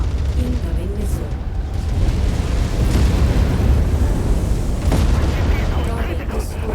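Explosions and booms from MechWarrior 5 mech combat rumble heavily and continuously, with sharper blasts and bursts standing out amid the battle din.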